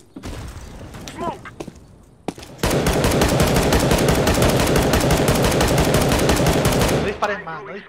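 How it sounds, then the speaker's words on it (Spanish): Sustained, loud automatic gunfire from a competitive shooter match in the Ultimate Cup quarterfinals, a dense rapid burst lasting several seconds after scattered earlier shots, with players talking over it before and after. "No disparéis más, no disparéis más"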